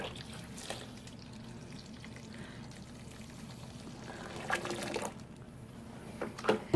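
Water is poured into a homemade laundry soap mixture of Tide detergent, a soft continuous liquid pour at close range with a few louder splashing bursts toward the end.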